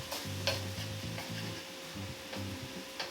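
Spicy pork cooks in a pan with a close, steady sizzle while a utensil stirs and scrapes in repeated short strokes.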